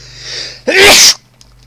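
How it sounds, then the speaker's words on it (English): A single loud, sharp sneeze close to the microphone, preceded by a brief inhale and followed by quiet. "And I have to sneeze."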